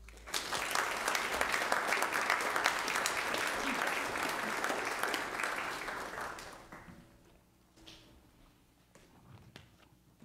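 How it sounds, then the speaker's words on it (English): Church congregation applauding at a Sunday service, steady dense clapping for about six seconds before fading to scattered claps and quiet room noise. "Let's give them a round of applause."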